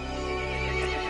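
A horse neighs and whinnies loudly over a continuous rich backdrop with faint hoof clip-clop, part of a narrated fantasy story in which the horse grows angry.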